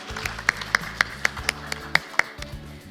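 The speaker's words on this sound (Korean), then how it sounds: "박수 부탁드립니다" Audience at a startup pitch presentation and awards ceremony claps after a team finishes, giving a sparse, fairly quiet run of about a dozen distinct claps at a steady pace in a hall.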